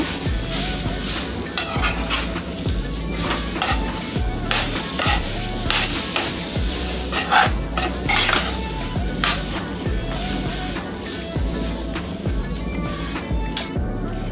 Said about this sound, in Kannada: ಕ್ಲೀನಾಗಿ ಮಿಕ್ಸ್ ಮಾಡ್ಕೊಳ್ಬೇಕು